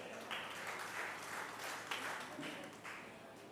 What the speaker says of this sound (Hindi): आप लोग बार जोरदार तालियां बजाइए।